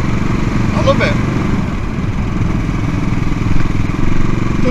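A CCM Bobber motorcycle engine runs steadily with a loud, throaty, pulsing rumble, close by. Wind noise sits over it, and a voice speaks briefly in the background.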